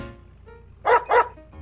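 A pug in the GTA 5 video game barks twice in quick succession, short, close and clear over a faint low background hum.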